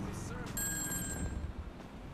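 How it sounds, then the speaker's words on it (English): A phone ringing in Grand Theft Auto 5, a bright electronic ring tone that starts partway through over low game background, with a voice talking underneath. "What is that? Oh, this is a phone."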